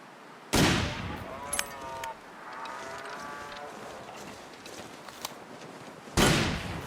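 Two sharp, loud rifle shots from The Long Dark, a survival video game, one near the start and one near the end, with quieter outdoor game ambience and faint sounds between them.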